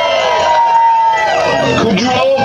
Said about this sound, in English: Could we have a round of applause for Pat King?